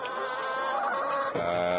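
Hens on an egg-laying poultry farm in Cilacap, Indonesia, cluck steadily and close by, a dense overlapping chorus of many birds with no talking.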